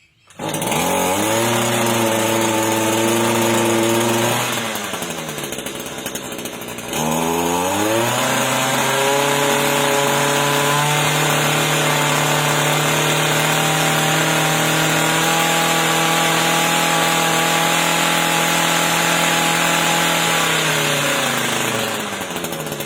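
A Shindaiwa T236TS brushcutter's small two-stroke engine starts and runs steadily and loudly up close, with a brief dip in revs partway through before settling back into a sustained idle-to-mid drone.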